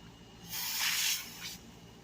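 A cleaner spray hisses in one sustained burst of about a second onto spilled brake fluid around a Dodge Charger front brake caliper, followed by a shorter, softer second burst. The spray sounds close and fairly quiet.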